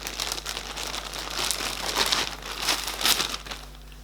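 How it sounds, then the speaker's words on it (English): Plastic bag rustling and crinkling up close, a yarn haul bag, continuous and fairly loud, with irregular crackly bursts throughout. "Sorry about the rustling."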